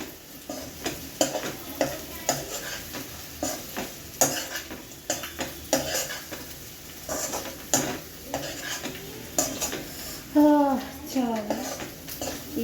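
Food is stirred and mixed in a pan on the stove, with repeated close clinks and scrapes of a utensil over a light sizzle, while a voice talks intermittently.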